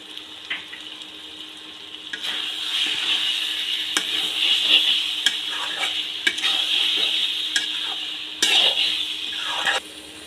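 Shredded cabbage fries with chicken skin in a pan, a loud, constant sizzle with repeated scraping stirs and spatula taps, with no talking.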